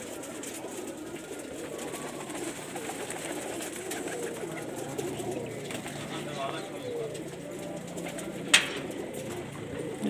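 Pigeons kept by fanciers coo in soft, repeated low murmurs throughout, close by, under someone talking.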